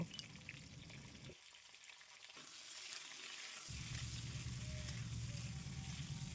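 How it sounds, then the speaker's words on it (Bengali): Potatoes and kohlrabi fry in a pan and are stirred. A soft, hissing sizzle runs under a few scraping stirs and briefly drops away before returning steadier and close. The sound is faint overall. "আলুগুলো কিছুক্ষণ নাড়াচাড়া করার পর কেটে রাখা ওলকপিগুলো দিয়ে দেব"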